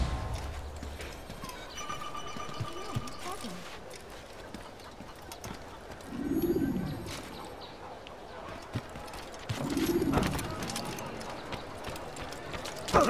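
Horse hooves clip-clop in an Assassin's Creed video game, a soft rhythmic trot under game ambience and mechanical clicks, with two louder swelling rumbles partway through.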